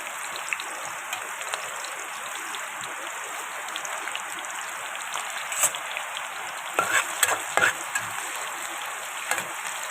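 Onions sizzle in hot oil for a home-style local chicken curry, a continuous bright frying hiss with a few sharper crackles and pops near the end, no talk.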